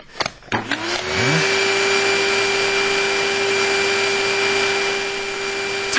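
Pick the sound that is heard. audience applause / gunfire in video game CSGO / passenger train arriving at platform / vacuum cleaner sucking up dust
vacuum cleaner sucking up dust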